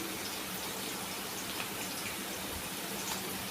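Crushed shallots and dried chillies frying in ghee give a dense, even crackling sizzle that holds steady at a moderate level throughout, close up, with no voices.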